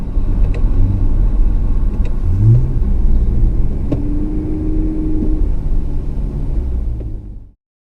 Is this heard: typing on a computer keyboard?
no